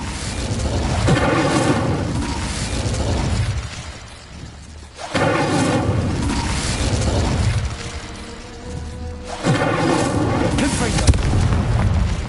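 A fire spell cast in the Hogwarts Legacy video game: three loud, booming bursts of flame, each swelling and then roaring for a few seconds, separated by brief dips.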